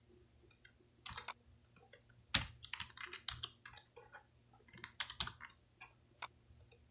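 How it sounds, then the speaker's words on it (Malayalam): Sample text tapped out on a computer keyboard in irregular bursts of close, crisp key clicks with short pauses between, quiet room, no talking. "ഞാനിവിടെ കുറച്ച് സാമ്പിൾ ടെക്സ്റ്റ് ടൈപ്പ് ചെയ്തിട്ടുണ്ട്"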